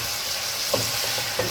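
Chicken frying with kachnar buds as tomatoes go in, a steady broadband sizzle throughout with two brief stirring or dropping thuds partway through, close and continuous with no talking.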